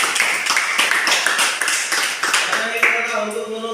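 A vocational school class at SMK N 2 Binjai claps together at the close of a lesson, a quick run of sharp, fairly close hand claps with voices mixed in.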